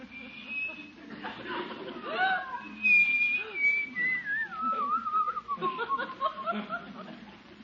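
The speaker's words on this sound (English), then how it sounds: "You just going to sit there and whistle all night?" A man on an old radio comedy whistles a wandering, sliding tune at close range, with a soft chuckle or snicker near the start and a low murmur underneath.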